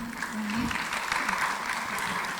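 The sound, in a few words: audience applause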